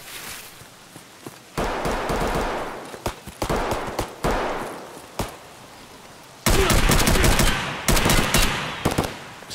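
Automatic weapon fire in the Escape from Tarkov shooter game, several loud close bursts of rapid shots separated by short pauses, with a long sustained volley near the end.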